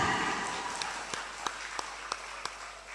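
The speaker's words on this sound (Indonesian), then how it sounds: "Tepuk tangan." Scattered applause rises from an audience at a campus expo, a soft wash of clapping under which a few sharp, separate hand claps stand out at a fairly steady beat for a few seconds.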